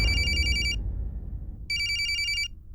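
Phone ringtone for an incoming video call, two bursts of bright electronic ringing separated by a pause, loud and close over a low household hum.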